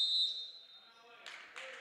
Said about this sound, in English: Foul's going to be whistled